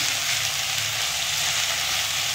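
Okra bhaji frying in a pan while being stirred with salt, giving a steady close sizzle with a constant hiss and no voices.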